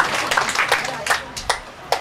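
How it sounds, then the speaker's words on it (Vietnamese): At a Vietnamese Buddhist gathering, an audience claps in a handful of sharp, uneven bursts spread across a couple of seconds, while a voice talks over the clapping. "Vỗ tay phụng nha"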